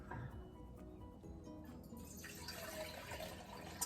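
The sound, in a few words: broth being poured into a pot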